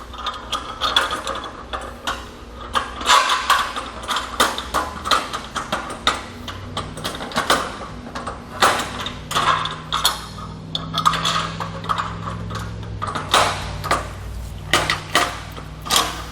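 Bolts being fitted through the handle of a saddle-style carrier on a Malone MegaSport trailer, with metallic ratcheting clicks coming in quick irregular runs for about sixteen seconds, close and fairly loud.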